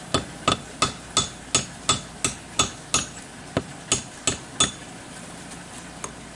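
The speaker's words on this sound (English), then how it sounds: "this is actually a masonry hammer" A masonry hammer striking a railroad spike while working out an old grate, with about sixteen sharp metallic blows at a steady, quick rhythm, close and loud with no talking.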